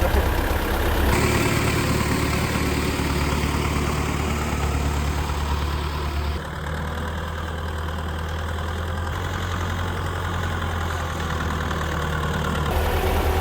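A tractor engine idles and runs steadily at close range, a loud, continuous low rumble with a slight shift in tone partway through as the throttle changes, with no talk over it.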